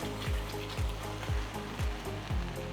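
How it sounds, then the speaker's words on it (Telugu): Ground masala paste for paneer lababdar sizzles and spatters in a hot pan, a steady frying hiss with rhythmic stirring scrapes about every half second, close and fairly loud with no talk. "ఇప్పుడు ఇందులో ముందుగా రుబ్బుకున్న మసాలా పేస్ట్ని వేస్తున్నాను."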